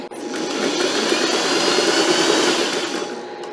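A sewing machine stitches across a tote bag strap in one steady, continuous mechanical whir at close range, with no talking.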